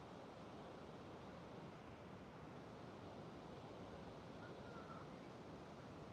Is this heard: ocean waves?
yes